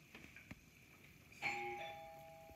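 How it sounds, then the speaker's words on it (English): A doorbell chimes once, a clear sustained tone ringing out and fading slowly, preceded by a couple of faint knocks in a quiet room. "that was just our doorbell."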